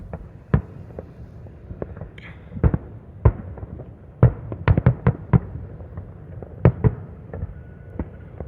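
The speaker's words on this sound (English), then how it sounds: "fireworks are always so cool." Fireworks bursting outdoors at night, a series of sharp, loud pops and bangs at irregular intervals, some in quick clusters, over a low rumbling background with no voices.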